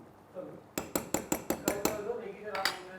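A metal lid is set onto a pan of kofta kebabs simmering in sauce, making a close, quick run of about seven bright metallic clinks that settle into a lighter rattle.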